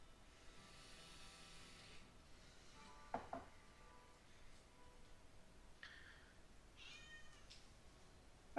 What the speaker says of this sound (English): Very talkative cat.